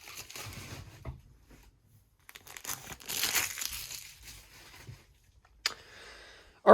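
Plastic packaging around a new automotive fuel pump being cut open for a Ford Crown Victoria track car, giving soft, intermittent crinkling and tearing rustles close by, with a few brief louder crackles.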